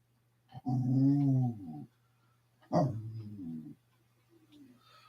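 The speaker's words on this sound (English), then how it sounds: "your dog barks. Well, he's a dog." A dog lets out two drawn-out, growly bark-howls separated by a pause, close to the microphone over a low electrical hum.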